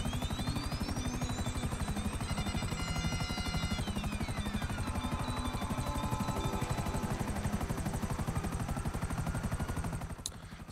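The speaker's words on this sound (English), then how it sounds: "it just needs to be a helicopter that's on your CO menu that will spawn next to you" A helicopter in the video game GTA Online drones loudly and steadily with rapid rotor chop throughout, joined by rising and falling synthetic tones, then tapering slightly at the end.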